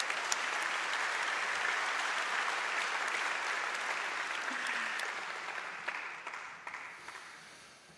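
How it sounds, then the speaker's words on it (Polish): Applause from an audience at a ceremony marking the 25th anniversary of the Silesian Voivodeship self-government, a dense, even clapping that holds steady and then thins into scattered individual claps at the end. "Wielkie brawa, raz jeszcze."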